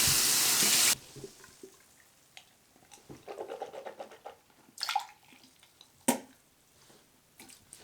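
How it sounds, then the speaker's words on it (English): Tap water running into a bathroom sink for about a second, then a cup being rinsed with splashes, drips and scrapes of the cup against the basin, close and moderately quiet. "I always spit in a cup, and then rinse the cup out"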